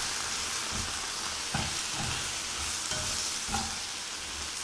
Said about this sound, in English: And then all you have to do is just stir this up.